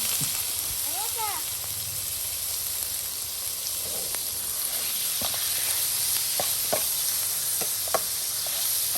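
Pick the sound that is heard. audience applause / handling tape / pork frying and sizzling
pork frying and sizzling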